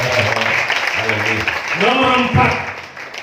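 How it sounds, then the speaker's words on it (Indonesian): A church congregation at a sermon applauds, a steady patter of clapping running beneath a loud voice speaking over it. "Tepuk tangan buat Tuhan."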